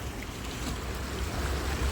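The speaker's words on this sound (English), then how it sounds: "The water's a little bit faster here," Fast-flowing river water at a hometown magnet-fishing spot, a continuous broadband rush and churn close to the microphone, steady throughout with some low wind rumble and no talking.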